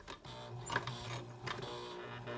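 A sewing machine stitches a zipper onto a paper craft project, running in a steady mechanical whir with rhythmic needle clatter, close and moderately quiet throughout.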